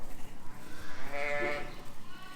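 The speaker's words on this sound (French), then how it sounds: "On va aller voir la brebis." A ewe bleats on a farm, one wavering cry close by that swells and fades over steady outdoor background noise, with a lamb nearby.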